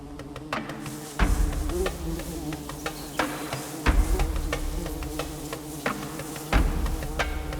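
Female bees in the Atacama buzz close by in a steady drone while digging a nest, with faint scratching and soft thumps of digging in soil underneath.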